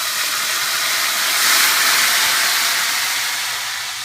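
Ginger and garlic sizzling in hot oil in a pan, a steady loud hiss that swells slightly midway and then eases, with no talking.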